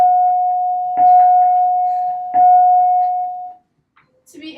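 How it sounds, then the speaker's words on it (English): A school bell signals the end of class with a sustained electronic ding tone, broken by two brief louder strikes and fading after about three and a half seconds, followed by faint noises. "as you can tell by the bell, it is time for class to end"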